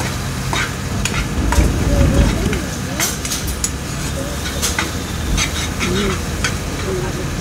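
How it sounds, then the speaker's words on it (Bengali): Spices and soy sauce being stirred and fried in a pan while making Maggi noodles, with a steady sizzle under repeated scraping and stirring strokes close by, and faint background noise throughout. "ভালো করে নাড়াচাড়া করে মশলাগুলিকে ভেজে নেবো।"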